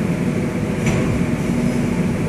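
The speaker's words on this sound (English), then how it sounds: "Train is going." A train pulls out of Prayag station, giving a steady low rumble with broadband mechanical noise throughout and a brief higher squeal partway through.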